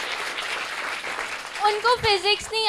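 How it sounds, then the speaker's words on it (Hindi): Audience applause at a school-life and board-exam talk show, a dense broadband clapping wash that holds steady before voices and cheering-like tones rise over it toward the end. "जोरदार तालियां होनी चाहिए इस बात पे।"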